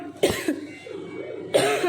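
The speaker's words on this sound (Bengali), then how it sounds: "বাবা কেন কাশি হলো" Two sharp coughs from a person in a home kitchen, one near the start and another near the end, with a faint murmur between them.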